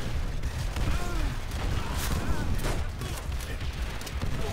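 Grenade blasts and bursts of gunfire in a Pacific-front World War II Call of Duty game on Hardened difficulty, a dense, chaotic din of shots and booms with a voice talking underneath.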